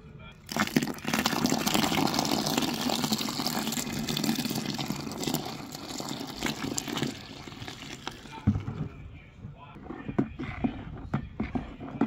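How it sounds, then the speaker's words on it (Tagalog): Water pours steadily into a homemade dishwashing liquid mixture for several seconds, a broad rushing splash that eases off, followed by lighter clinks and stirring sounds. "Dagdagan po ulit natin ng tubig."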